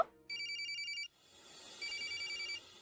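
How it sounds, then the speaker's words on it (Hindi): A telephone rings with a bright electronic trilling tone, first in a clear near burst, then after a short pause the ring repeats more faintly over room noise. "फिलहाल तो मम्मी का फोन आ गया।"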